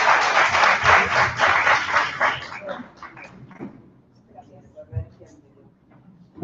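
An audience applauds a doctor introduced at a university lecture in London, a dense burst of clapping that fades over a few seconds before scattered sounds and a voice take over.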